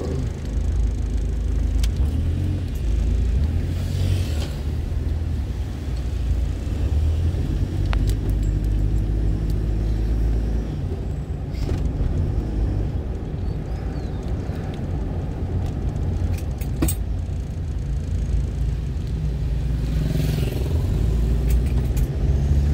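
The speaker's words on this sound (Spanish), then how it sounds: "Hay tanto tráfico y por Piti Antuta." Steady road traffic on Piti Antuta in Fernando de la Mora, Paraguay, a continuous loud rumble of cars and engines with occasional sharper passing sounds and no voices.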